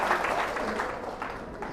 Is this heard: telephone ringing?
no